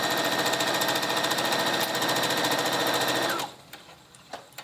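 A sewing machine runs steadily as it stitches a seam on a woven wrap top, a fast, continuous mechanical whir that stops abruptly near the end, leaving a few faint clicks and handling noises.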